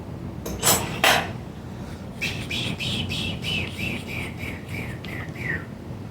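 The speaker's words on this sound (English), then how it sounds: "I'm going to get this big nut off out of the crank threads" A wrench works a big nut out of the crank threads on an old French bike. There are two sharp metallic clanks, then a run of rhythmic high squeaks as the nut turns, close by with no talking.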